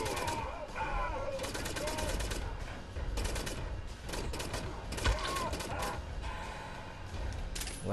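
Gunfire in the video game Wolfenstein: The New Order rattles in dense, rapid bursts mixed with mechanical clanks and game effects, loud and continuous throughout.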